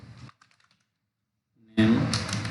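A few soft, quick keystrokes tap on a computer keyboard in a short gap between stretches of a person talking.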